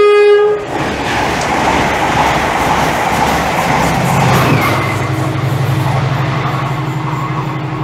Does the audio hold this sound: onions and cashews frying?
no